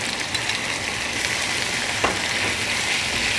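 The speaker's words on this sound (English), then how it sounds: "we're going to take our rapini and add it to the pan." Rapini hits a pan of hot oil with softened garlic, a steady broad sizzle of frying that holds at an even level throughout with no voices.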